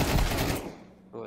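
Automatic gunfire in Counter-Strike: a short, loud burst of rapid shots up close that fades quickly into near quiet, with a brief rise of sound at the very end.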